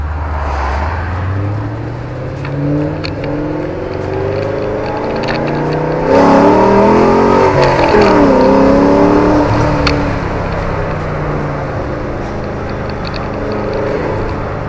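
A 2007 Ford Mustang GT engine revs and roars, pitch climbing and falling through several surges, loudest in the middle, with no talking.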